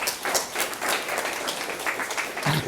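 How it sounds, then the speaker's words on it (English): A live audience gives a speaker a round of applause as he comes up to talk: steady, close, dense clapping that holds evenly for a few seconds. "Give him a big round of applause."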